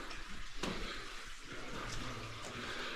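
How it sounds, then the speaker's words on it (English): A small waterfall inside a cave splashes and trickles steadily as a continuous, fairly close wash of falling water, with a brief louder splash early on. "A miniature waterfall."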